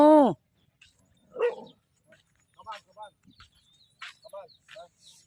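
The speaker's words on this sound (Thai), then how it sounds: "ไม่ยอมยังจะไปเห่าเขาอีก" A small dog barks and yips in short, scattered bursts at close range, with someone talking and some birdsong in the background.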